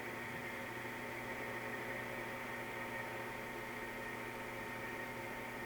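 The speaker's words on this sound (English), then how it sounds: "Right now we're going to go back to the grinding, so I'm going to select grind, and our regulating wheel automatically starts to slow down." Royal Master TG12X3 centerless grinder with its regulating wheel running and slowing, giving a steady, loud machine drone and hum with constant broadband noise and no talk.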